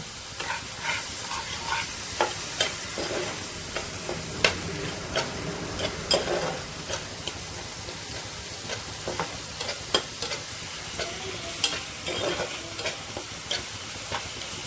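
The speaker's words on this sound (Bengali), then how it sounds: "যতক্ষণ তেল ছাড়ছে ততক্ষণ আমি কষিয়ে নেব" Fish roe masala sautés in oil in a pan, giving a soft continuous sizzle broken by frequent scraping and tapping stirs, close and moderately quiet, with no voices.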